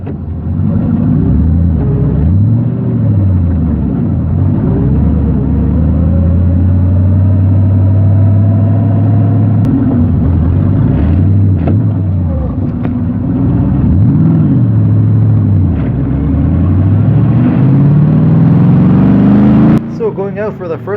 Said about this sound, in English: let's try to go out there and see what the car does in whatever form it's in